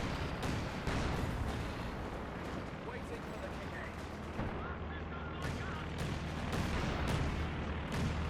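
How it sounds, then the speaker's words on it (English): Heavy Bofors anti-aircraft guns fire at Stuka dive bombers in Company of Heroes 2, with rapid repeated booms and gunfire over a dense, continuous battle din, under a narrating voice. "Heavy anti-aircraft fire there against the Luftwaffe aircraft."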